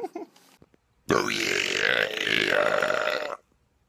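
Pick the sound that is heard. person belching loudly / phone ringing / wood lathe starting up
person belching loudly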